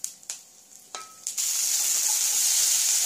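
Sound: mustard seeds crackling in hot oil in a pan

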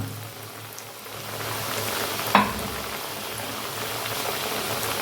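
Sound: banana fritters deep frying in oil

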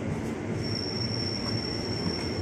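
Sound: KRL commuter train wheels squealing

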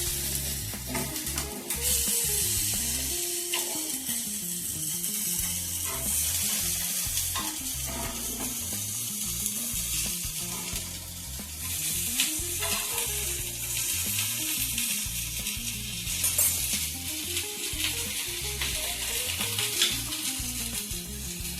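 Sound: carrots, capsicum and peas sautéing in a pan

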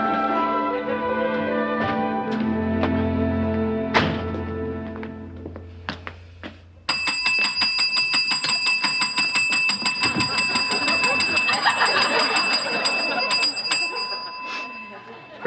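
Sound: bell being rung

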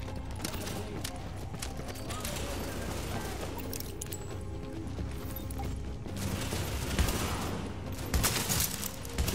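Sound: shotgun gunfire in The Division video game

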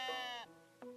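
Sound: sheep bleating in the video game Tiny Glade

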